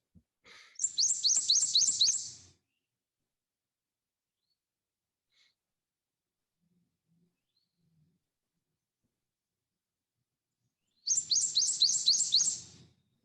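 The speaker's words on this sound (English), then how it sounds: "This is that bright yellow warbler that can be mistaken for a goldfinch," Two bursts of bright, rapid, repeated whistled notes from a prothonotary warbler, each phrase about two seconds long, clear and alone, separated by a long near-silent gap.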